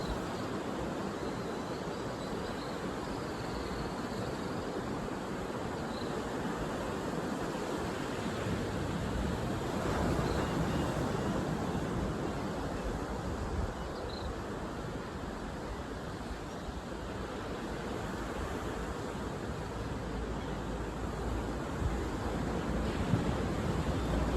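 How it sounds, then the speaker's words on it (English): Ocean waves wash in a soft, continuous surf hiss, steady and even at a moderate level with faint swells, heard alone with no talk. "Enjoying the sound of the ocean"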